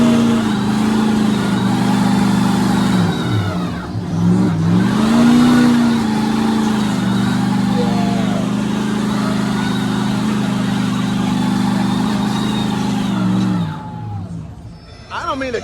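A truck engine revs hard during a truck tug in the mud at a muddy off-road gathering. The roar stays loud and continuous with rising and falling pitch swings, close up, and eases off near the end.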